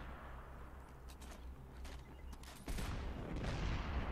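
Gunfire aimed at an enemy tank in the video game Destiny 2: rapid rhythmic shots patter for a few seconds, then a heavier, louder burst of fire and impact takes over.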